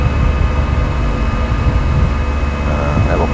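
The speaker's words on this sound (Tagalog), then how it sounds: "Aeroplano ko yan Cebu Pacific." A Cebu Pacific airplane in flight above a sea of clouds, its cabin engine noise a steady, loud, broadband roar with a low rumble, unbroken for a few seconds with no talking.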